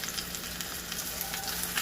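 Seared Jamaican stew pork chops sizzle steadily in a wok, a close, continuous hiss of frying with no voices over it.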